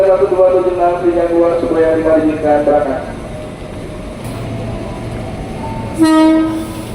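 A KRL INKA commuter train pulls out of Pasar Minggu station, its loud tonal horn sounding for about three seconds over rumbling cars, then a brief second horn blast near the end, with talk alongside.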